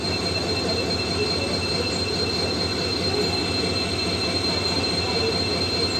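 A passenger train hauled by a WDP 4D diesel locomotive rolls steadily along the track, with a continuous rumble, wheel squeal and a high steady whine, without pause.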